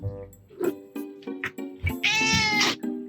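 A black and white cat gives a long, loud, close meow with a strained, wavering pitch, preceded by shorter soft vocal sounds and light handling noises.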